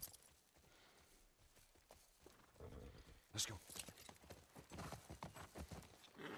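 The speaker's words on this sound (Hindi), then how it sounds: "ओके फाइनली हमसे घोड़ा दौड़ाना आ गया." A horse gallops in The Last of Us Part II, its hoofbeats a quick, uneven clip-clop that grows louder in the second half, heard under a speaking voice.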